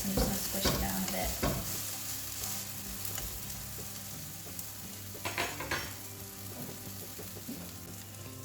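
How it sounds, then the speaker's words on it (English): A thick vegan pancake sizzling in a frying pan as it is pressed down with a utensil, soft continuous frying with a few sharp scraping and tapping knocks near the start and middle. "Quite a thick pancake, so I'm just going to squish it down a bit."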